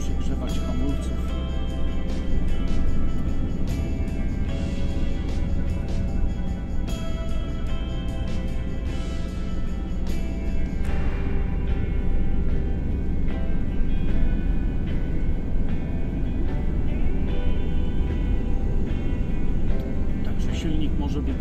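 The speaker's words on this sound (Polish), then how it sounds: "Silnik może być zwyczajnie słychać." A car engine hums steadily while the car is driven downhill on engine braking along a mountain serpentine road, heard under continuous talking.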